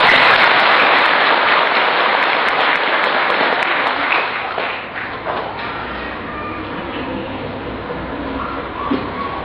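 Listeners at a religious talk give a round of applause, a loud, dense wash of clapping that is strongest at first, then eases and thins toward the end while the noise of the room continues.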